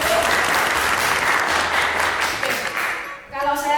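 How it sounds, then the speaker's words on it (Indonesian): An audience at an MC school event in Surabaya breaks into loud, sustained applause that fades near the end as a voice begins speaking. "saya minta tepuk tangannya untuk kita semua yang ada di sini"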